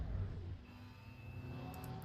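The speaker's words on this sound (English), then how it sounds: "that is the noise of an Audi which goes in anti-stall mode" In a GT3 racing video game, an Audi GT3 race car engine in anti-stall mode hums as a low, steady drone with a faint higher tone, fading slightly and then holding level.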